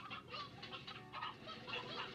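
Several chickens cluck and murmur together in short overlapping bursts, a busy, close flock sound with no talking, in the video game Slime Rancher.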